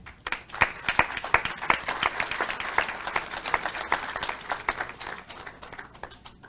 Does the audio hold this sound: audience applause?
yes